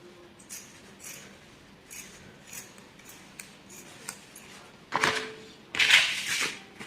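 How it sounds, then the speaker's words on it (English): Scissors cut fabric along the back armhole of a peplum blouse in a series of soft, close snips, with louder crisp cuts grouped near the end. "And I'll cut the back armhole."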